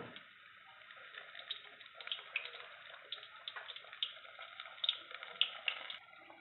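Battered green chillies for bhajji frying in hot oil, giving a steady, fairly faint crackling sizzle with scattered sharper pops and no voices.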